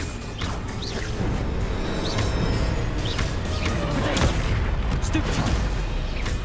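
Bombarda blasting spells from a Harry Potter video game burst in repeated booming explosions mixed with crackling impacts, the din running continuously at close range under a player's voice.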